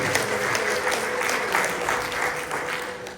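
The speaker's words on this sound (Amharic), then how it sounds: "እልልታም ጭብጨባም ይሁንለት።" A church congregation claps at a sermon in a steady, dense burst of applause that holds for several seconds, with voices faintly mixed in.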